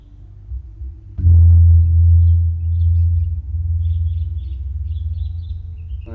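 A large bronze gamelan gong struck once after a quiet lead-in, its deep low hum swelling loud and then sustaining with a long, slowly fading resonant echo, close and alone.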